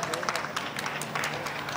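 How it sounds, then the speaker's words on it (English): An audience gives a round of applause for a speaker at a Hawaii Planned Parenthood event on women's rights, a steady patter of many hands clapping at moderate loudness throughout. "Let's give her a big round of applause."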